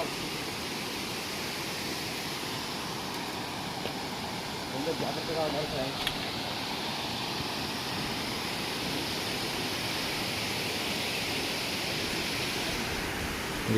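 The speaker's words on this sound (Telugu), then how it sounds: "ఫ్రెండ్స్ ఇదే కొల్లబైలు వాటర్ ఫాల్స్." Kolla Bailu waterfall near Madanapalle, swollen after rains, sending up a steady broadband roar of rushing water, with a person talking faintly over it.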